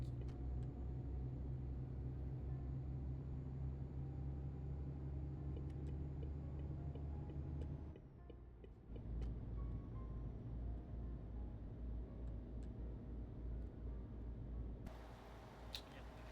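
Car driving at speed on a four-lane road, heard from inside as a low, steady engine and road rumble with a brief dip midway and faint ticks, fairly quiet.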